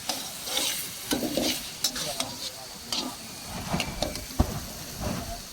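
Food sizzles in oil in a wok over an outdoor fire at a campsite, with star anise and spices, as a spatula stirs and scrapes in irregular clanks over a constant frying hiss.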